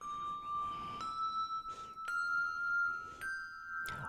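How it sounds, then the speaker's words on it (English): Small handbells are rung four in hand, two bells in each hand, giving a series of clear, bright, sustained tones struck one after another at a moderate pace, close and fairly quiet. "with some of the smaller bells, we can play what we call 4 in hand. It's 2 bells in each hand"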